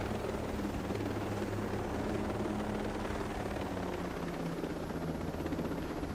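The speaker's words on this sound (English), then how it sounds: "I got a gunless helicopter." Helicopter without guns flying in the Ghost Recon video game, a steady low rotor drone and engine whine that holds evenly loud and continuous throughout, with no talk over it.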